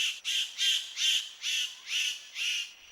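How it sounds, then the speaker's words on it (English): A superb bird of paradise gives a rhythmic series of seven harsh, high squawking calls at an even pace, clear and fairly close, with no other sounds. "This contender is called the superb bird of paradise."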